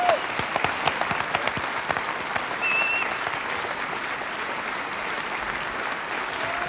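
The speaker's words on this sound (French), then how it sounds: "que je vous demande d'applaudir" A crowd applauds a trio at a French fanfare gathering, with dense sustained clapping, a few sharper individual claps, and a brief whistle cutting through midway.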